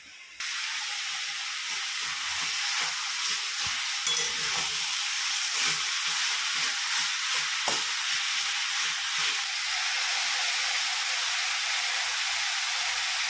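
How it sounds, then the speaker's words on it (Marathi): Spices for a Marathi home-style tempering sizzle in hot oil in a kitchen, a steady close hiss and crackle that flares up at the start and continues without pause, with faint stirring and clinks underneath. "चला आता वाटण वाटून घेते आणि फोडणी दाखवते तुम्हाला कशा पद्धतीने मी करते ते"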